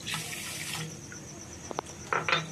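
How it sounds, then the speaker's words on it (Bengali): Water pours into a cooking pot for sugar syrup, a close, steady trickling splash that fades, followed by a few brief clinks and splashes. "1 কাপ আর হাফ কাপ আমি জল নিলাম"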